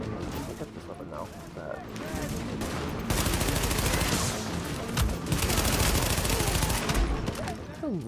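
Rapid gunfire from a weapon in the video game The Division, sustained bursts of automatic shots that swell louder midway, with game noise and a voice speaking over parts of it.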